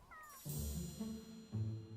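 A cat in the South Park video game meows twice, two drawn-out, moderately loud cries that stand alone over faint background game sound.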